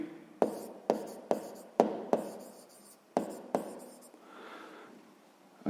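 Pen strokes on paper while writing out a math solution for a sixth-grade exercise: sharp taps and short scratches in an irregular rhythm, close and quiet, with a softer scribble near the end and no speech.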